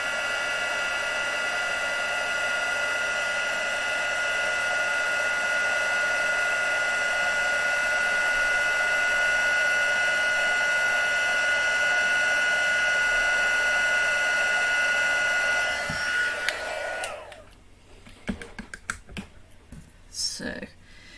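A heat tool blows steadily and loudly to dry a craft piece, a constant whirring hum for most of the time before switching off, followed by faint handling clatter.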